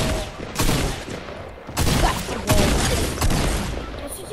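Gunfire in the Fortnite video game, rapid bursts of shots and sharp booms coming in several loud volleys close together.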